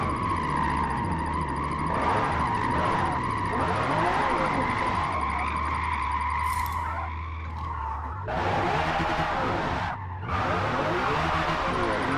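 A car engine in sixth gear while drifting, loud continuous engine whine with tire squeal and skidding, shifting pitch over several seconds, with someone talking over it.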